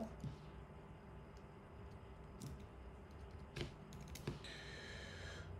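Faint keystrokes on a computer keyboard, scattered clicks over a steady background hiss, with no talking.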